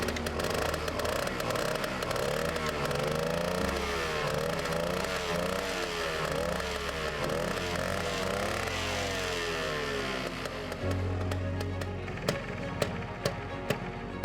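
A 1975 Suzuki TC-185 Ranger motorcycle engine with an exhaust leak at a worn gasket runs up close, idling and revving with a rough, sputtering, popping exhaust and clattering mechanical noise throughout.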